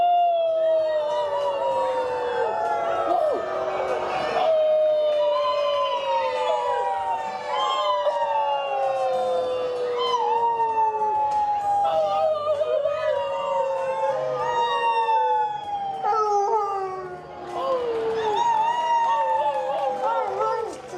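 A group of people howls together in imitation of wolves, overlapping rising and falling wails in several voices that fill the clip loudly and continuously, with a second burst of howling near the end.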